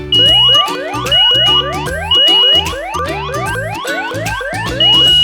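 A smart smoke and CO detector sounds a loud electronic alarm of repeating rising beeps and tones, with a steady piercing high tone recurring in regular bursts.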